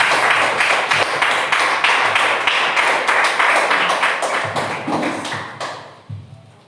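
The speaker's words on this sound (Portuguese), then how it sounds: "E as palmas louvam o Senhor." A church congregation claps in praise during a Thursday evening prophetic service: a dense, loud, rhythmic wash of many hands close by, steady throughout and thinning toward the end.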